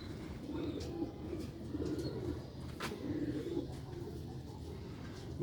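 An old-breed Sialkot pigeon cooing in a repeated rhythm of low, soft coos about once a second, faint against steady background noise with a few sharp clicks.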